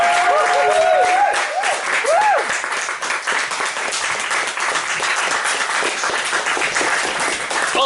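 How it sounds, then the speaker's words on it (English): Sustained audience applause after a live music performance at The Snow Goose, loud and steady throughout, with a few cheers and whoops rising above the clapping near the start. "Give him a big round of applause."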